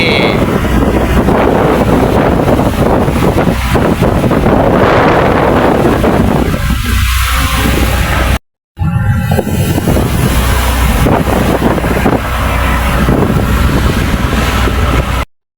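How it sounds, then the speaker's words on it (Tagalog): Big sea waves in a strong northeast monsoon wind at open sea, heard from a boat as a loud, continuous roar of wind buffeting the microphone and rushing water, with one brief cut in the middle. "Grabe ang alon. Nakakatakot."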